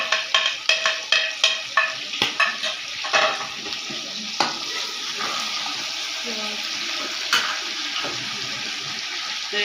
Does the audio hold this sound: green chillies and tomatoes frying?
yes